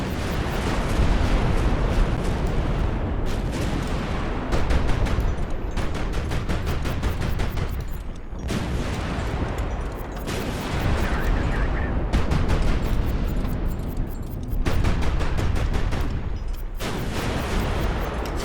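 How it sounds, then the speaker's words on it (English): 57mm anti-missile guns firing in the naval video game Highfleet, rapid rhythmic bursts of heavy booming shots in repeated volleys, loud and close, separated by short gaps. "It's 57mm guns, by the way, for our anti-missile."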